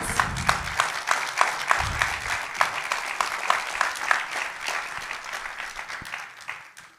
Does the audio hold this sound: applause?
yes